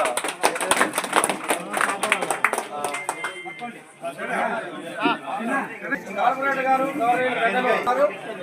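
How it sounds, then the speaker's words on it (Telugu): An audience at a felicitation where a bouquet is presented claps in a dense burst for a few seconds, then the clapping fades as a voice keeps talking over crowd chatter. "అందరూ కూడా ఒకసారి క్లాప్స్"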